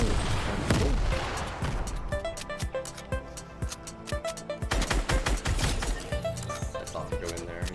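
Dense Fortnite gunfire fills the scene, with rapid shots, blasts and impacts crowding together at close range, swelling again in a louder flurry midway through; grenade explosions are part of the fight, though they do not stand out clearly from the shooting.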